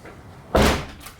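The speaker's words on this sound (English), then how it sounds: "I'm just going to lower the door down, see if the rear wiper works now." Rear hatch door of a 2007 Kia Sorento LX being lowered shut, one close, solid thud with a short fading rumble, standing alone against quiet background.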